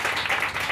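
A brief, dense burst of applause from a church congregation during a Sunday sermon, many hands clapping at once, steady and moderately loud.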